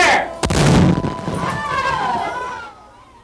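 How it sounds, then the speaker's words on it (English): An original 3-inch ordnance rifle cannon fires once with a sudden heavy boom, followed by a rumbling roll that fades over a couple of seconds amid outdoor crowd noise. "we use these 3-inch ordnance rifles because they're originals we got a hold of"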